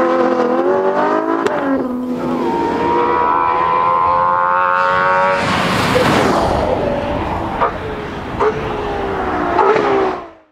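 A Ferrari 812 Competizione's engine and exhaust wail through rising revs with sharp shifts and a burst of roaring acceleration, loud and close, fading out at the end.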